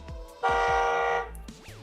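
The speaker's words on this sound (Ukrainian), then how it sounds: "На кермі кнопка сигнал" Horn button on a JE1009 children's ride-on car gives one steady electronic beep lasting under a second, close and clear, framed by small toy-like synthetic chirps and sweeps.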